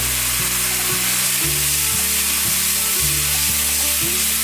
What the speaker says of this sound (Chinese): 大略翻炒一下